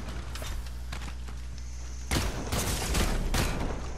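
A shooter video game with a sustained ambient hum, a few faint thuds, then a burst of rapid gunfire and impacts in the second half, loud and close.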